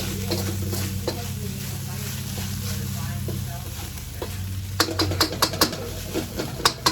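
Fried rice sizzles steadily on a wood-fired grill, a dense continuous hiss with sharp spatula scrapes and clacks clustering toward the end, loud and close with no talking.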